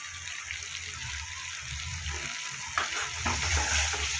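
Spices with turmeric and Kashmiri chili powder fry in oil for a vegetarian potato curry, making a steady close sizzle. Scraping stir sounds join in toward the end, and no one speaks.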